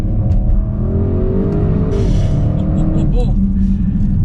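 A 2020 Audi RS6 Avant engine accelerates hard, a loud rising roar climbing through revs, with a brief gear-change dip midway and someone talking over it.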